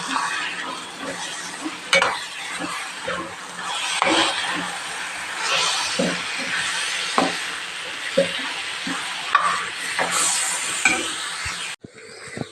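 A spoon stirs thick carrot halwa in a pan, scraping and slapping in an irregular rhythm of soft knocks over a steady low sizzle, close and fairly loud, with no talking, and a brief clatter near the end.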